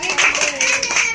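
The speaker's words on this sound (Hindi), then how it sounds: "ताली ताली ताली" Children clapping together during a playful song at home, steady rhythmic claps mixed with singing voices and chatter.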